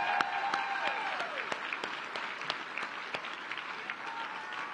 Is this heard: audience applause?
yes